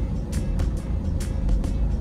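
Motorcycle pulling away along a busy street lined with repair shops, engine noise close and fading amid traffic rumble, with a few sharp clicks and knocks.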